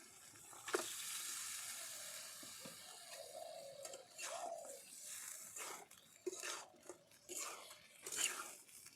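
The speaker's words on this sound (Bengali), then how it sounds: "এখন আমি ধুয়ে রাখা চিকেনগুলো দিয়ে দেব" Washed chicken dropped into a sizzling, oil-releasing fried spice paste, giving a faint frying hiss with intermittent clatter and scraping bursts from a spatula, quiet and close.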